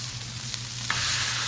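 Pesto-marinated, pounded-flat chicken breasts hit an oiled flat top griddle. The sizzle is close and steady, and it jumps louder midway as more meat goes down.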